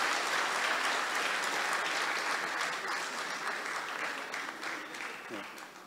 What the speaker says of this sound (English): kindly a round of applause for Pramod Narayan